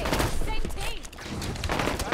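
Rapid gunfire cracks through a ranked Big Team Battle Strongholds match on the Guillotine map in Halo 5, with dense overlapping bursts under a player's voice.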